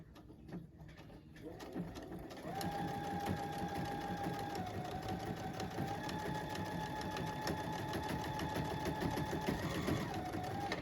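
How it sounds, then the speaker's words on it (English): A sewing machine stitches close along the edge of fabric, its motor whirring in a steady, continuous run after a short start, loud and near throughout. "we're going to sew this right on the edge as close as I can possibly get"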